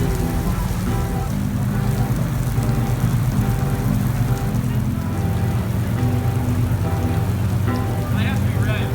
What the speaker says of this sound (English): It's raining. Isn't that beautiful rain?